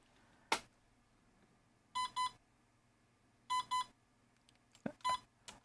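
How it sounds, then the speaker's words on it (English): A click, then a series of paired startup beeps from a drone's electronic speed controller in short bursts, clear and close, with gaps of quiet between them. "So that's the regular sort of startup beep"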